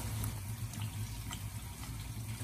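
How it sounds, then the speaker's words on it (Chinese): Tap water running steadily as a whole tilapia is rinsed inside and out under a kitchen faucet, a continuous close splashing hiss with no talking. "我们将罗非鱼给它里里外外的全部清洗干净以后，接着给它控干水分"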